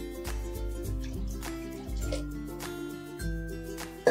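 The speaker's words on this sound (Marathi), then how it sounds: "2 बाउल एवढं पाणी ओतून घेणार आहे।" Water is poured into a bowl of rice flour with soft splashing and trickling in several short bursts, close by and fairly quiet, with a small clatter at the end.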